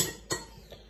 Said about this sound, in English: as soon as you start clinking the knife on the plate